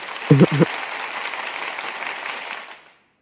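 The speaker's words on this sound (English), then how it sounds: "For another round of applause." A crowd claps steadily in a broad wash of applause, with a couple of brief vocal bursts at the start, before it fades to silence.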